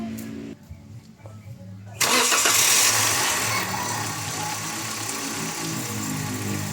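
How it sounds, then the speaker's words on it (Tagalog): Quiet background and a brief voice, then a Toyota Avanza engine cranks and catches at about two seconds, roaring loudly before settling into a steady idle; the engine had become noisy from a late oil change. "pwede nating start itong makina"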